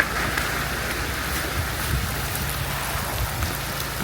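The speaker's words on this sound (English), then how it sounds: "This is the most rain I've seen since I've gotten here." Heavy pouring rain in a downpour at a goat farm, falling as a dense, steady roar of drops with a low rumble beneath and no voices.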